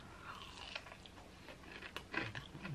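Crisp, crunchy bites into fried chicken, close up and fairly quiet, with chewing crunches following in quick succession.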